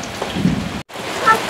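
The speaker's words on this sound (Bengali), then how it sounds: "এদিকে বৃষ্টি পড়ে" Rain falling on a rainy day, a steady hiss of drops close by that is briefly interrupted by a short silent gap.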